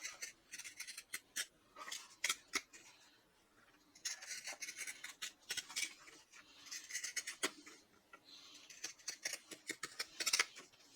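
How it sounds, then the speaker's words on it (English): Pinking shears clip fabric seams on a sewn clutch, a run of quick, crisp snips in short bursts, close and fairly quiet, with no talking. "Go ahead and clip my seams at this point using pinking shears"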